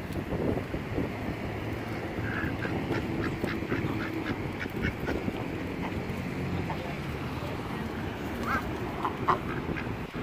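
Ducks quacking in short bursts near water, with wind buffeting the microphone and a voice talking over the outdoor noise.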